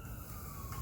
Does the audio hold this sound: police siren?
yes